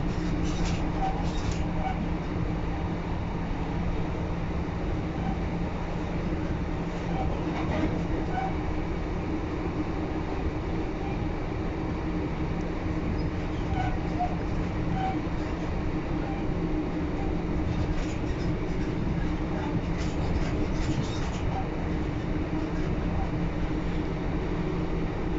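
Steady onboard rumble of an East Midlands Railway class 156 diesel unit, 156411, running between Barnetby and Lincoln, a continuous low drone with faint rattles and no talk over it.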